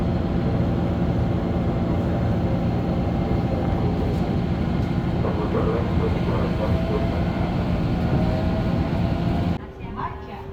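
Commuter train pulling away from Cikoya station, a loud continuous low rumble and rolling drone close by, steady for several seconds before the level drops abruptly near the end.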